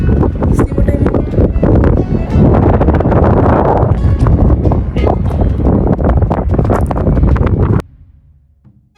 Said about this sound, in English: we can't even take a good picture because the wind is blowing